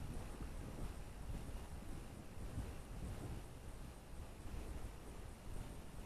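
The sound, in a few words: gusty wind blowing outdoors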